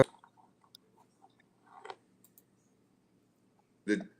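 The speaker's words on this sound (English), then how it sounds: "I'm clicking buttons over here and I'm messing things up on the video screen." Scattered button clicks sound at a desk during a radio show, sparse light ticks and taps with a couple of louder clustered clicks, close and otherwise quiet.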